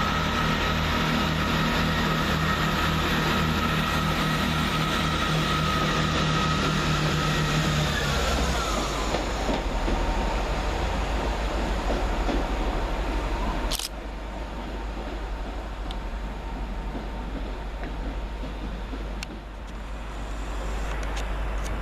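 Great Western Railway diesel unit 165 119 pulls away from a station on a service to Windsor and Eton Central, its steady engine drone loud at first, then easing into a broad rumble with a sharp hiss partway through.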